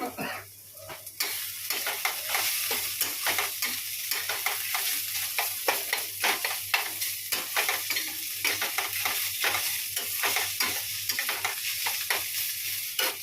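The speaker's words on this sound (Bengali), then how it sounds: "চিচিঙ্গিটা ভাজছি আমি" Snake gourd frying in a pan, a dense continuous sizzle and crackle with quick repeated stirring scrapes throughout, near and steady, with no voices.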